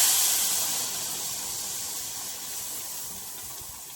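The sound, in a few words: adding lentil dal to the pan while cooking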